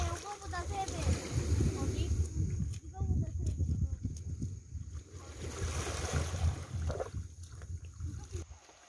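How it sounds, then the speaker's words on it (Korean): Waves wash over a pebble beach in front of an island campsite, a steady rushing surge with wind noise throughout, while people talk over it. "캠핑장 바로 앞에 예쁜 몽돌 바닷가가 있어요."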